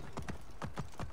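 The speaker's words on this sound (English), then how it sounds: "I'm just riding into oncoming horses." Horse hooves clip-clop at a gallop in Assassin's Creed Origins, with two or three close, loud hoofbeat pairs striking in quick uneven rhythm over a steady background.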